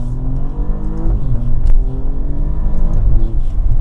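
An Alfa Romeo Giulia Quadrifoglio engine revs loudly nearby, a deep steady drone that rises in pitch as the throttle opens and settles again, with no one talking.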